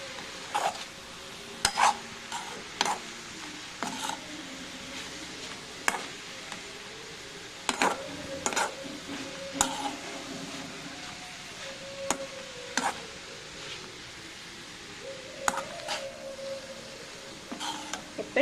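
A spoon stirs soy chunks and an onion mixture in a pan, producing soft scraping under a faint sizzle, with sharp scattered clinks and knocks against the pan at irregular intervals.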